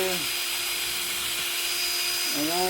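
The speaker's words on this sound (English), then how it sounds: "drill a hole right here" Power drill boring a hole while building a lamp, running at a steady loud whine, its pitch sliding down at the start and rising again near the end as speed changes.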